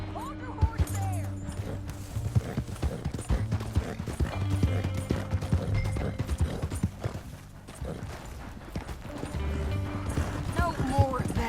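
Steady clip-clop of horse hooves trotting in the video game Red Dead Redemption 2, under background music, with occasional mechanical clanks and voices talking over it.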